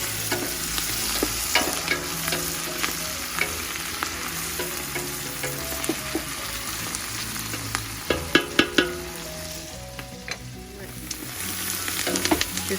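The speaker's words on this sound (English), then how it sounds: "Just threw in my carrots." Onions, carrots and bell peppers frying in a pan for lecho, a steady sizzle with repeated clacks and scrapes of a stirring utensil, close by, with a voice briefly heard.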